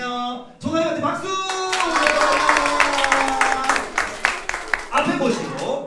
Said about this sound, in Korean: 전도사님한테 박수!